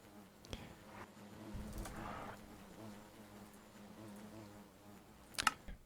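Bee buzzing in a modded video game apiary, a soft, steady insect drone held at low volume across the whole stretch, with a few faint clicks and a brief brighter burst near the end.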